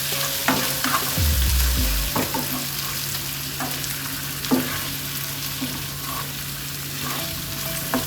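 Chicken frying in a pan for biryani, a continuous sizzle with repeated clinks and scrapes as it gets stirred, close and steady over several seconds with no speech.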